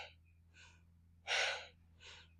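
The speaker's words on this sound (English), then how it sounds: "Like you're snapping the belly as we force the breath out." During a yoga breathing exercise, a single forceful exhale bursts out loud and close, framed by softer breaths before and after over a low steady hum.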